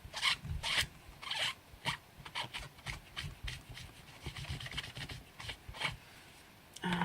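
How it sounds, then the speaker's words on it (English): A rubber stamp is wiped clean with a chamois cloth, giving close, dry rubbing and rasping strokes in uneven bursts with short pauses between them. "Now I need to clean that off completely with my chamois."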